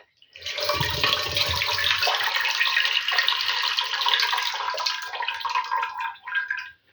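Water drains steadily through a lid from a pot of hot water while pickled cucumbers with zucchini are being made, a close, continuous gushing splash for several seconds that tapers off into a few final trickles and drips.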